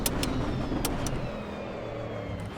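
Race car in the Assetto Corsa EVO sim game at the end of Conrod Straight under 100% braking: a steady loud engine drone with tonal sweeps and a few sharp bright bursts, continuous throughout with no talk.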